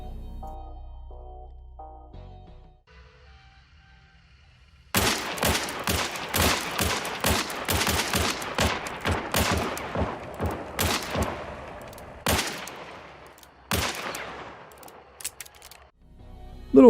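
Rapid gunfire from paired Nagant pistols in the video game Hunt Showdown, with a long burst of closely spaced sharp shots, several at once, then a few more separated shots after a quiet lead-in of game ambience.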